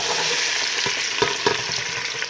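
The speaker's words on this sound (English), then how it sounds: "Let's fry the onion." Chopped onion hits hot oil in a pan and sizzles steadily. The frying is loud and close, with a few stirring scrapes and taps and no talk.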